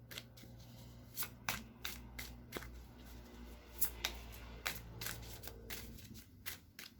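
Oracle and tarot cards being shuffled by hand in a series of crisp riffling snaps and soft slides, fairly close, with a low steady hum beneath and no talking.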